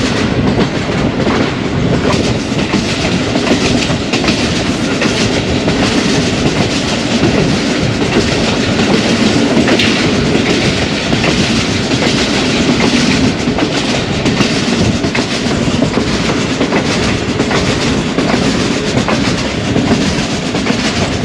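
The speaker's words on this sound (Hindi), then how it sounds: "ज़बरदस्त ट्रैक साउंड्स के साथ सफ़र जारी है" The Awam Express runs hard along the rails on the line from Peshawar to Lahore, a loud, continuous clatter of wheels and rattling carriages with no voices over it.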